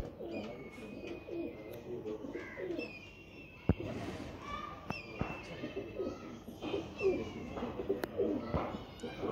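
Pigeons of a fancy pair coo softly and intermittently among chirps and rustling, with occasional sharp clicks and faint background voices.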